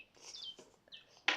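Digi Birds toy bird giving a few faint, short electronic chirps and tweets, quiet and scattered, with a louder burst at the end.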